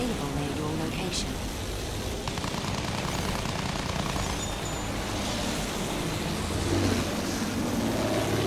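Propeller fighter planes from the First World War drone overhead in a Battlefield 1 aerial dogfight, a steady, loud engine roar blended with bursts of machine-gun fire throughout.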